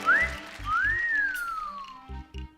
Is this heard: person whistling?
yes